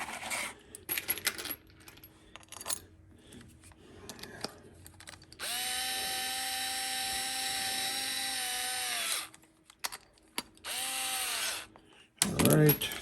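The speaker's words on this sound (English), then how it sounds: "I'm just going to add 4 bolts." A power tool drives bolts into a leather embossing press, with a long sustained whirring run and a few shorter bursts, mixed with clicks and metallic clatter nearby.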